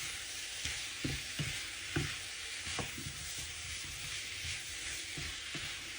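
Spicy devilled potatoes coated in masala with spring onions sauté in a pan, giving a constant close sizzle broken by repeated scraping stir strokes, with no voices.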